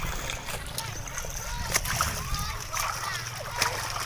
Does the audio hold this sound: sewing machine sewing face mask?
no